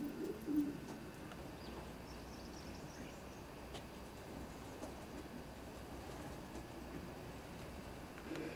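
Racing pigeons coo softly and repeatedly in a loft, a low murmuring rhythm under steady background hum, with no one talking.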